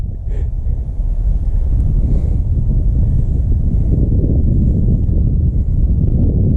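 Strong wind buffeting a microphone outdoors at an airfield, a steady low roaring rumble that continues throughout with no other clear sounds.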